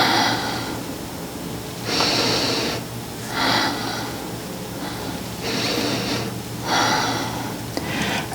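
Slow, steady breathing during a yoga session for back health, with five or six broad inhale-exhale swells close to the mic at a relaxed rhythm, no talk.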